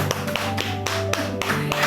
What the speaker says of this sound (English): I want to clap for you